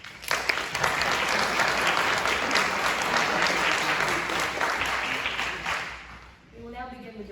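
Audience at a Glen Cove, New York mayoral candidate forum breaks into sustained applause, a dense clapping wash that gradually fades near the end as a voice begins speaking.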